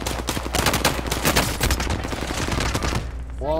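Rapid SMG gunfire in Call of Duty: Modern Warfare, continuous dense bursts of close shots layered with other gunfire for several seconds, loud and steady.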